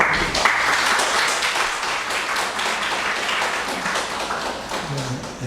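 Congregation applause at a Sunday church service, a steady, dense wash of clapping lasting throughout, fairly loud and continuous with a faint voice or two underneath.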